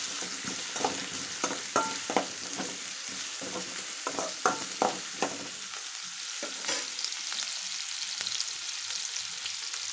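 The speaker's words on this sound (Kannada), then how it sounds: "ಬೇಯಿಸ್ತೇನೆ ಇದನ್ನು ಎಣ್ಣೆಯಲ್ಲಿ." Beans fry in hot oil with a steady, bright sizzling hiss while a spatula stirs them in a rhythmic series of soft scrapes during the first half, close up and with no talking.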